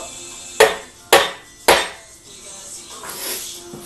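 A dead blow hammer taps an engine part three times in quick succession, sharp dull knocks close by, followed by fainter handling noises.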